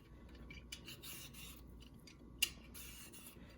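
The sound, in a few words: peeling a cucumber lengthwise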